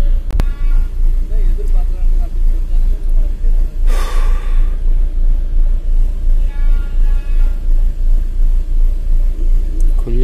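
Renault Duster engine misfiring at idle, a loud, steady low rumble with an uneven pulsing beat throughout, and a brief hiss partway through, heard up close.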